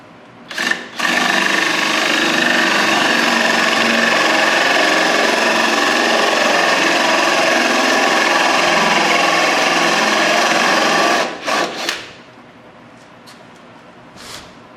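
A power drill bores a hole in a handle clamped in a vise, whirring loudly and continuously at close range for about ten seconds after a brief start, then stopping with a couple of short bursts before fading to quiet.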